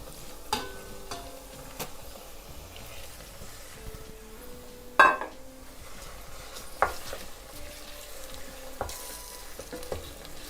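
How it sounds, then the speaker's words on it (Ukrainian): Minced meat sizzles and fries in a pan with already browned onion, a steady crackling hiss broken by a few sharp clinks and scrapes of a utensil against the pan. "тепер додаємо фарш"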